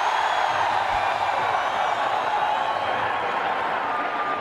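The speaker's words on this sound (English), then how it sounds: "You could hear them just erupt in applause there." A cricket stadium crowd at a PSL 2017 eliminator between Karachi Kings and Islamabad United applauds as a broad, steady wash of distant clapping and crowd noise, moderately loud and continuous.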